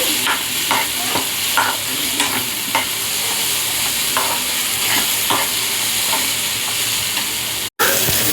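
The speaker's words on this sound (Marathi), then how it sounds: "थोडा कांदा लसूण मसाला, अशा प्रकारे फ्राय करून घ्यायचं." Onion, garlic and masala fry loudly in a pan, a dense continuous sizzle broken by regular soft stirring taps, before a sudden short dropout near the end.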